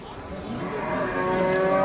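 Cattle low at a livestock market in Jizzakh, a single drawn-out moo that swells in loudness, close by, with faint crowd murmur underneath.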